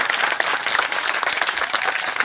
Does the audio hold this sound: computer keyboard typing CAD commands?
no